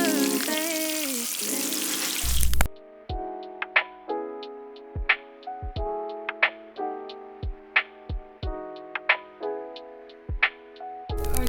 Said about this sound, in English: We're doing fried catfish.